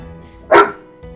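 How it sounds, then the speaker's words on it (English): A single sharp dog bark from a Pokémon video game, loud and close, standing out briefly over faint background game tones. "That was a mean bark."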